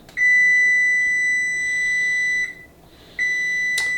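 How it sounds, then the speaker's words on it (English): A kitchen timer beeps in a continuous high electronic tone, cuts out briefly, then resumes, loud and close with no talk over it. "You still haven't turned the timer off."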